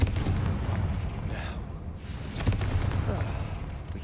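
Confringo fire spell in Hogwarts Legacy blasting a cave full of spiders and goblins, heard as loud booming impacts layered over continuous battle noise, with a sharp hit near the middle.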